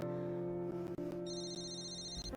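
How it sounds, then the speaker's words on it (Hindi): A telephone rings in a steady electronic ringtone, loud and continuous over a low hum of background tones, with no talking. "फोन आ रहा है"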